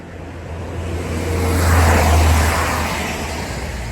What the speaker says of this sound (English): And there's a bus.